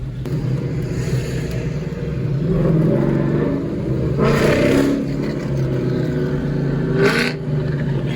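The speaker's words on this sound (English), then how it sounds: "I love the sound of the Pontiac." A Pontiac car engine at a street car show rumbles low and steady, swelling louder in a couple of revs, with occasional clattering bursts.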